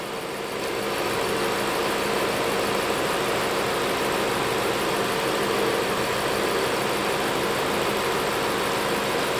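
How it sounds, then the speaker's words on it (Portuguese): A Ford Fox car engine idles smoothly and steadily, a constant even hum at close range with no speech. "Motor muito sereninho."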